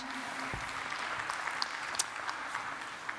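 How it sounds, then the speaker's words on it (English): An audience at an African Union panel session applauds in a steady, moderate wash of clapping that holds for a few seconds, with a few sharper claps standing out. "A round of applause again, ladies and gentlemen."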